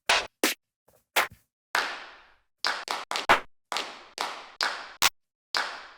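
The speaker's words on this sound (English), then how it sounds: "So what I'm going to do is layer 2 human claps" Human hand clap samples layered for a dance music track, a dozen crisp separate slaps in an uneven rhythm with brief gaps of silence, close and dry, alone without voices.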